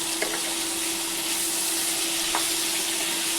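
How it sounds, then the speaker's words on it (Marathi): Bitter gourd fries in a pan with an even, continuous hiss and sizzle, broken by a couple of faint clicks as it is occasionally stirred, alone and moderately quiet. "त्याला आता चांगलं फ्राय करून घेते. त्याला अधूनमधून सारखं असं फिरवत राहायचं."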